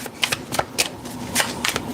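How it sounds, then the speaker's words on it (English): Tarot cards are shuffled by hand in a series of quick riffling bursts, close and crisp, with short pauses between each burst. "shuffling for Leo."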